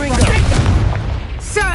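Incendio fire spell cast during a duel in a wizard video game, a loud booming burst of flame with a rumbling roar that fades over about a second, and a voice speaking over the blast.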